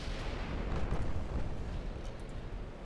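Heavy naval shell impacts and explosions rumble in an Ultimate Admiral: Dreadnoughts battle, a dense, continuous booming roar at close range.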